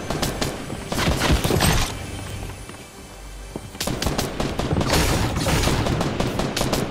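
Gunfire in the Fortnite video game: dense, rapid bursts of shots crackle loudly, break off for a quieter lull near the middle, then resume in sustained volleys.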